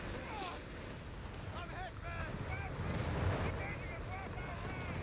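Grenade explosions and gunfire crackle in a Company of Heroes 3 battle, a dense, rumbling wash of blasts and shots under steady combat noise.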